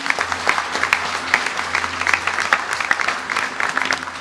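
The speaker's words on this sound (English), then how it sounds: "Let me hear that round of applause." A crowd at a Maha Shivratri gathering gives a round of applause, many hands clapping in a lively, uneven patter throughout, fairly loud and without speech.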